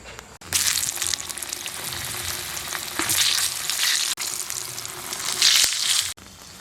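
Thick eggplant slices fry in hot oil, a loud steady sizzle swelling in bursts as pieces are added and moved, with brief cuts in the sound and no talking.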